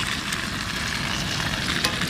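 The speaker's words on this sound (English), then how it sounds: "Listen to that sizzle." Potatoes sizzle in hot oil in a frying pan, seasoned with pink crushed salt, giving a steady, dense, close-up frying hiss with faint crackles and no talking.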